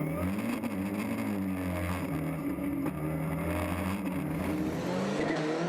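Rallycross race cars from a European Rallycross Championship round in Germany, including a Citroën, roar around the track with sustained loud engine drone and shifting revs, heard without commentary.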